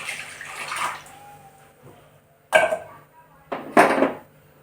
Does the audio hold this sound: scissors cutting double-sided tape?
no